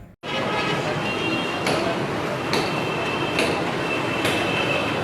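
Steady rumble fills the Ichhra metro bus station in Lahore, with a rolling vehicle drone and periodic metallic clinks and squeals rising over it. The sound comes loud and continuous, with faint voices in the background.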